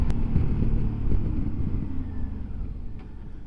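A Suzuki V-Strom DL650 XT motorcycle engine rumbles low and steady at close range, with wind noise across the microphone and the engine note easing slightly toward the end.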